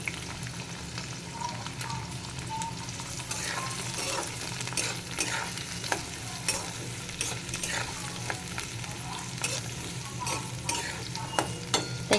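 Green beans fry in a pan with a soft, steady sizzle, and frequent clicks and scrapes of a stirring spoon run through it at moderate, fairly quiet volume; no voices.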